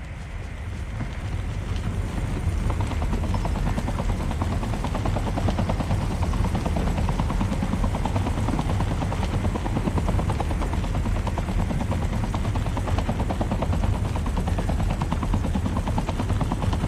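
Helicopter in the Call of Duty battle royale video game, a steady, loud rotor drone with chopping low thump and wind-like rush, continuous and unchanging throughout with no talk over it.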